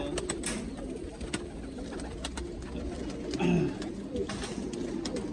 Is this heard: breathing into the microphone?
no